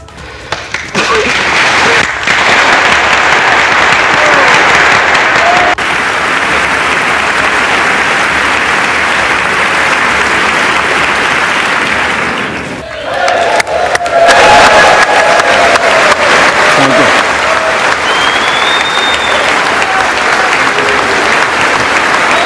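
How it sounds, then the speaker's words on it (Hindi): Loud, sustained applause from a large audience welcoming three leaders in turn at a public event, steady clapping with a brief dip near the middle before surging again, with cheering voices rising from the crowd. "आप बारी बारी से तीनों नेताओं का स्वागत में बजने वाला तालियों का शोर सुनिए"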